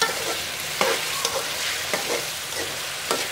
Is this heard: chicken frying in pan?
yes